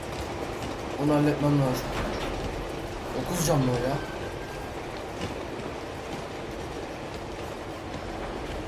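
A train rushes past in the video game Uncharted 2: Among Thieves, a low mechanical rumble swelling and fading across the scene while someone talks over it.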